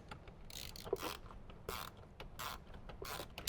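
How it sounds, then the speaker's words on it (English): A socket wrench with a 7mm socket ratchets in short repeated bursts while tightening a speaker mount in a Jeep JK Wrangler, faint close clicks. "socket wrench and 7mm socket and tighten that down"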